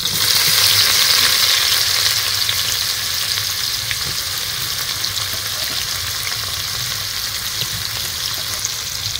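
Chopped onions, about 400 grams, frying in hot oil with whole spices for egg biryani, a steady broadband sizzle that stays loud and continuous throughout with faint stirring scrapes and no talk.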